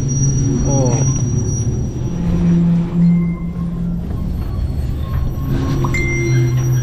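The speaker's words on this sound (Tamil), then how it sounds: "Start ஆகிடுச்சுங்க train." A train in Mauritania creaks into motion with squealing wheels and a steady low rumble, close by, while a voice briefly exclaims over the noise.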